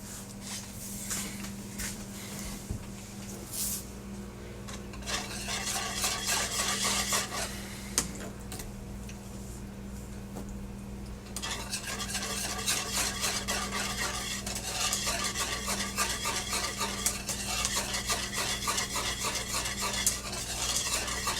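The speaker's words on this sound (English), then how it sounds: "I want to stir with that because I want to keep all the lumps out" A spoon scrapes and swirls steadily through a banana pudding mixture in a pot on the stove, a continuous close rasping that grows busier and denser partway through, set against a low steady hum.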